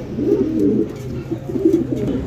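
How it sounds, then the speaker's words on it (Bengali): A pair of fancy show pigeons coo nearby in low, repeated throaty phrases at an even rhythm, with no voices present. "এখানে আরো এক জোড়া কবুতরের কালেকশন আছে, শোকিং কবুতর।"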